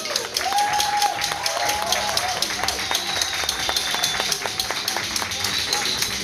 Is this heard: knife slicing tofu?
no